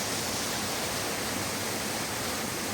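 A creek in Yountville, California, swollen after a rain storm, rushes past in a broad, unbroken roar of water, steady and close with no talking over it.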